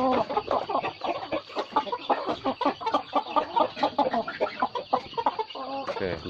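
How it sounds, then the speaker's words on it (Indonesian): Bangkok fighting roosters cluck close by, a busy run of short, loud clucks with a steady tonal whine in the background. "Sabar ya jago, ini jago semua guys."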